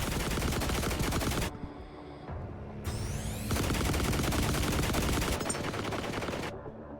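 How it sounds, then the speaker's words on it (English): Video game gunfire rattles in dense rapid bursts of automatic fire, with brief pauses between volleys, loud and continuous across several seconds. "I may have found where the shooting comes from."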